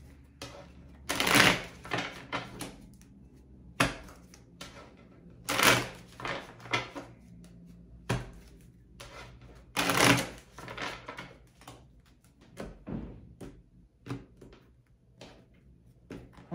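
Tarot cards are shuffled in a few bursts of riffling and rustling, several seconds apart, with softer card handling and taps in between in a quiet room.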